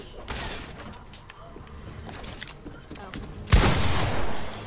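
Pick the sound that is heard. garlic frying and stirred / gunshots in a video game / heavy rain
gunshots in a video game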